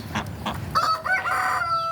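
Backyard chickens in a home garden, a rooster crowing loudly and steadily over a couple of short clucks from hens, close by with no voices.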